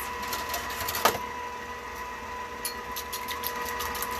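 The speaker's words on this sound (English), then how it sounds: "I'm going to beat my egg whites" Egg whites being beaten for Italian rainbow cookie bars, a steady motorized mixer whir running continuously with a brief louder clatter partway through.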